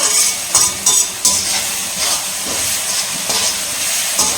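Ginger garlic paste sautés in a hot pan with a loud, close, steady sizzle and hiss, broken by repeated brief bursts of crackle.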